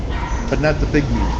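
A dog gives a couple of short, yipping barks close by, mixed in with a person talking over them.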